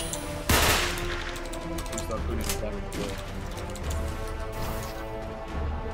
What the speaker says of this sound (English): Hit him with the cannons, man.